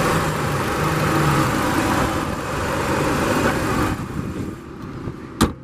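A 2012 Nissan Altima 2.5 S with its 2.5-liter four-cylinder engine running under an open hood, a steady close, even hum that sits level for about four seconds, then dips and ends with a sharp click.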